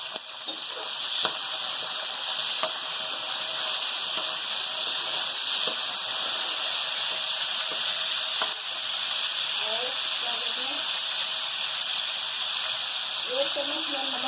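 Half a kilo of washed arbi (taro root) dropped into hot oil with curry leaves, giving a continuous loud, even sizzle and hiss with faint clinks of a utensil.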